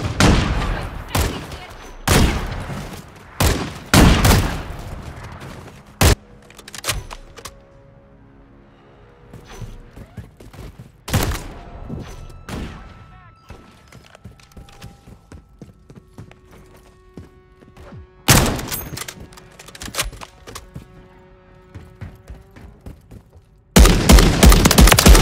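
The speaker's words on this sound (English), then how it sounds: "Taking effective fire." Call of Duty gunfire: loud, sharp shots and quick bursts, clustered at the start, with scattered single reports through a quieter middle and heavy bursts returning near the end.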